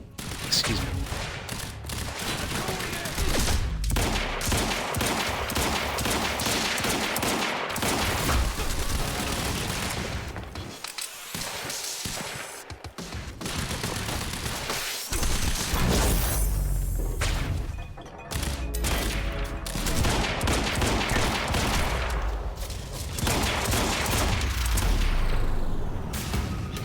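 Quantum Break gunfight: dense, loud, nearly continuous gunfire with heavy booms and impacts throughout, broken by a few short lulls.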